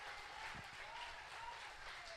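Church congregation applauding together during a service, a faint, steady wash of clapping from a distance that fills the whole short moment at an even level.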